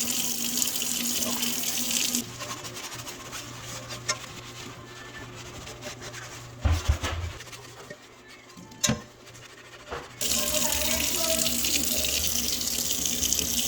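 Running tap water splashes into a sink while a cast iron skillet is scrubbed with soap, a steady hiss that stops partway for a stretch of quieter scraping and clunks, then resumes strongly.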